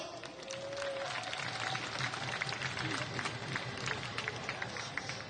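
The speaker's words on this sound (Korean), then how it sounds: "박수로 모시겠습니다" Outdoor crowd at a farmers' rally clapping to welcome a speaker, steady scattered applause throughout with a faint voice in the background.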